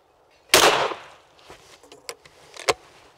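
A single loud shotgun blast fired at a clay rabbit target cracks sharply nearby and trails off, followed by a few faint clicks and small knocks of the gun being handled outdoors.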